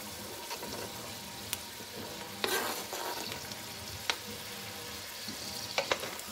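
Zucchini being stirred in a pot of seafood and fish stew, a low steady simmer broken by a few sharp spoon knocks against the pot and one louder scraping stir near the middle, with no talking.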